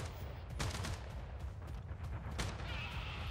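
Gunshots in the tank game Caliber, with a couple of sharp reports over a constant rumbling battle din, fairly faint and unbroken for the whole stretch.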